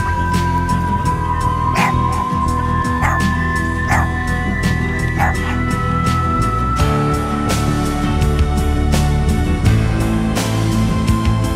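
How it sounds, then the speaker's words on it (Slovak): Dogs bark in the background during a bicycle ride in Sicily, with several sharp bursts spread over a steady wind and traffic rumble. They sound moderately distant and irregular. "pozadí počujem psov"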